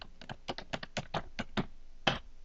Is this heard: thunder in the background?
no